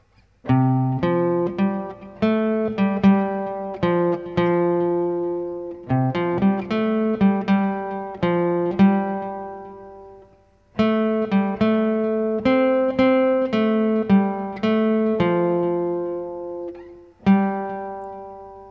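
A guitar plays a melodic intro solo, plucked notes in quick phrases with short pauses between, ringing out clearly on its own.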